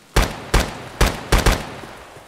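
Gunfire in Escape from Tarkov: five sharp, loud shots in an uneven sequence, the last two close together, each with a short echoing tail and no talking.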